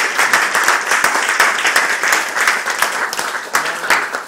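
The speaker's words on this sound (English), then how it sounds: "how about a little applause for Sanitas?" A crowd claps steadily at an election night speech, a continuous, fairly close round of applause with no voices rising above it.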